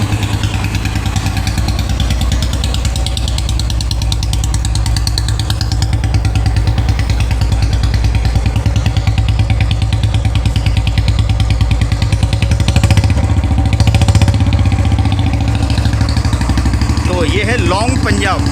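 A Royal Enfield Bullet 350 BS6 (2020) motorcycle with a long Punjab exhaust idles and revs with a deep, throaty burble, loud and close, running steadily throughout with a brief rise in revs near the end.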